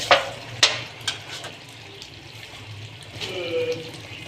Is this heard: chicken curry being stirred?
yes